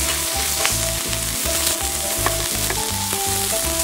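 Hamburger patties fry in a pan with a loud, steady sizzle that never lets up, running over a pulsing low hum throughout.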